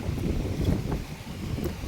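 Steady wind rushes and buffets against the microphone in a rice field, a low continuous roar with gentle surges and no voices.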